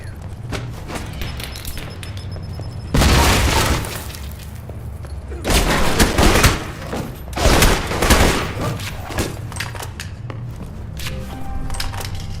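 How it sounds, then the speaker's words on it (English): A missile strikes a palace in the Alpha Protocol video game, setting off loud bursts of explosion with shattering debris and crackling rumble, then two further heavy blasts before the noise settles to a quieter hum. "Fired a missile at the palace."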